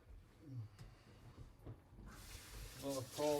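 Cold water sprayed onto a hot pan of fajita shrimp bursts into a loud, rising hiss that builds and stays sharp to the end, after a quieter stretch of low kitchen clatter.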